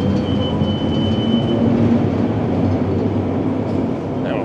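A Vancouver SkyTrain at a station makes a loud, continuous rumble and hum of rail cars with faint squeals, filling the busy station space.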